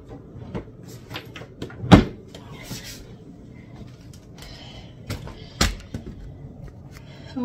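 A drawer is opened and closed while items are put away in a bedside area, giving a few soft sliding thuds and knocks among light rustling and clatter, one bump standing out louder near the start.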